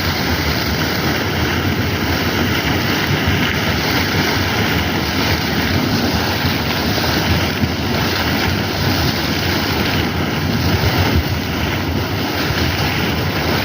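Water bursts up from the ground like a geyser, a steady, loud, broadband rush and roar that holds unbroken throughout with no talking over it.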